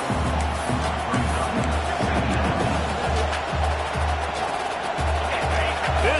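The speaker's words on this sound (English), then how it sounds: "This crowd bringing the energy and noise early" Football stadium crowd at an MSU versus Oregon game roaring and cheering steadily throughout, a dense, loud wash of massed voices with rhythmic low thumps pulsing underneath.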